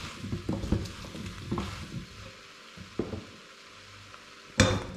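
Potatoes, carrots and stock cubes are stirred in a big cooking pot with soft knocks and scrapes, a gentle sizzle underneath and a louder clunk at the end.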